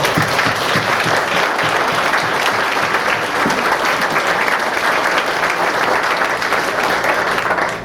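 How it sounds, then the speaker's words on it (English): Loud, dense applause fills the room for graduates at a Next Step graduation, with continuous clapping from a large audience held at an even level throughout. "to give yourself a round of applause."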